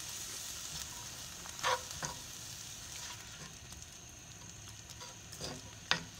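Minced garlic and chopped onion fry quietly in a pan, a soft low sizzle with a few clicks and utensil taps scattered through it.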